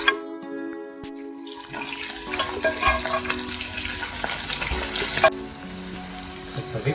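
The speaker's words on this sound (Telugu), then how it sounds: "గోల్డెన్ బ్రౌన్ వచ్చేదాకా వేపుకోండి" Prawns frying in hot oil for an Andhra-style pickle, a steady crackling sizzle that starts after a quiet moment and runs on with occasional stirring clinks.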